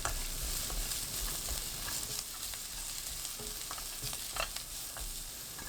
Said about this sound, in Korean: 팬에 식용유 1큰술, 양파 넣고 센 불로 1분 30초 볶습니다.